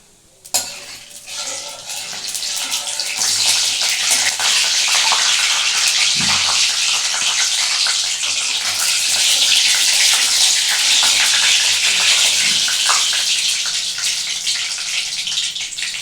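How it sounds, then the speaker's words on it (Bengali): Black cumin seeds hit hot oil in a pan and crackle into a loud, steady sizzle that holds for many seconds, a dense hiss after an initial clatter, with no talking over it. "এর মধ্যে আমি দিয়ে দিচ্ছি কিছুটা কালো জিরে"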